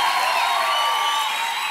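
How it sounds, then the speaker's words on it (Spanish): A congregation at a Christian service claps together, a dense, steady wash of applause that fills the room evenly throughout. "Tiene que darle ese aplauso a ese buen Dios."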